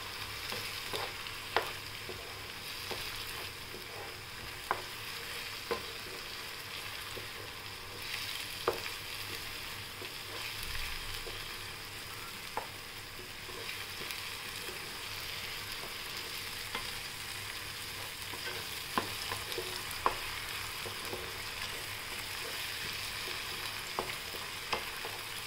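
Tomato, ginger, garlic and green chili paste sautés in a pan, a constant soft sizzle broken by occasional spatula taps and scrapes.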